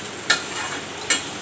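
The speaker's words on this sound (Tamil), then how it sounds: "சின்ன வெங்காயம் நல்லா வதக்கின்னே இருக்கு" Small onions sautéing in oil for a tamarind brinjal curry, a steady sizzle with two sharp scraping stirs of a spatula against the pan, close and clear with no talking.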